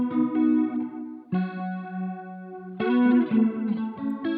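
An electric guitar runs through a Strymon Brig analog delay pedal with heavy modulation, its sustained chords swirling and warbling with chorus-like wobble and trailing repeats, loud and alone.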